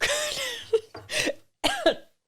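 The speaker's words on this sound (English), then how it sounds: "I didn't think I was going to make it through that little cough" A few short, close coughs and throat-clearing bursts in quick succession, then silence.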